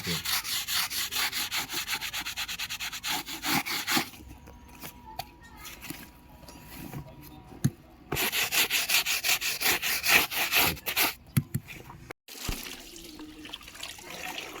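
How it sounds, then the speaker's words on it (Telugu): A brush scrubs a saree to remove stains in quick rough strokes after soaping, pausing briefly, with water splashing and trickling between bursts of scrubbing. "ఆ మురికిని కూడా కాస్త నేనైతే బ్రష్ పెట్టేసి కాస్త రఫ్ అయితే చేస్తున్నానండి ఈ విధంగా"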